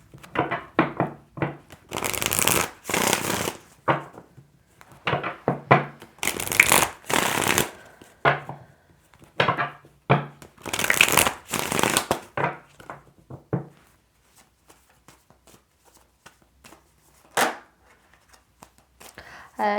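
Tarot cards shuffled during a reading, repeated bursts of riffling and rough card slaps in quick groups at close range, then sparser single taps as the shuffling slows.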